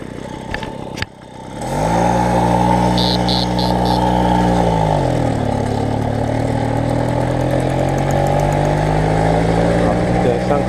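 A Peugeot 103 moped engine starts after a brief clunk and runs loudly up close, settling into a steady buzzing idle whose pitch dips and then slowly rises, with no talk over it.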